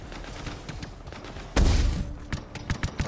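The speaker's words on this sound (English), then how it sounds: "Someone was shooting at me." Gunfire in the video game Anthem: a spatter of scattered shots, then a sudden loud blast followed by a cluster of sharp reports, fairly close and prominent without talk.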